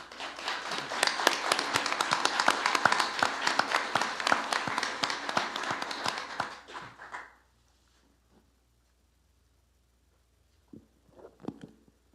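Audience applause at a community meeting on fentanyl, a dense crowd of clapping hands sustained for about seven seconds, then fading to near silence with a few faint scattered sounds near the end.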